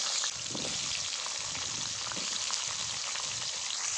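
Cut potatoes hit hot oil in a wok over a black cumin tempering, giving a steady, dense sizzle and crackle with soft bubbling pops, continuous and close throughout.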